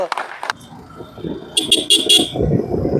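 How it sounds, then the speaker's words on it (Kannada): A motorcycle horn blares in several short, loud bursts close by, with engine rumble and a brief voice at the start. "ಹಾರನ್ನು"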